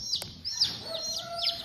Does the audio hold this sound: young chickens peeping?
yes